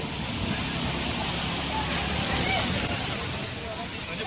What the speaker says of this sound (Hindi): पूरे दिल्ली एनसीआर में तेज़ आंधी के साथ बारिश हो रही है